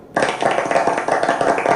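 Applause from a small gathering at a conference breaks out suddenly and carries on as dense, fairly loud clapping close by, with no talk over it.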